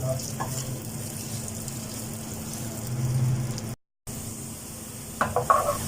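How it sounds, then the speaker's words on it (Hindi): Onions with salt browning in a pan for a chicken methi malai gravy give a steady, moderate sizzle and frying hiss with faint stirring, broken by a brief silence and a few sharper clinks near the end. "साथ ही नमक भी डाल देते हैं, इससे प्याज गल जाती है बड़ी जल्दी। और इसे मैं ब्राउन करती हूँ।"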